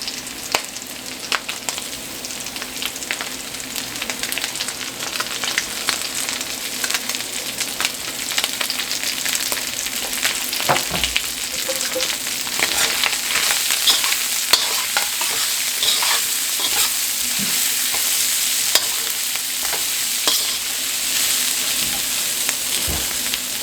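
Chestnuts and bean sprouts stir-fried in a hot pan for Spam and shrimp fried rice, a loud, steady, close sizzle with scattered scraping and clatter from stirring, continuing without pause.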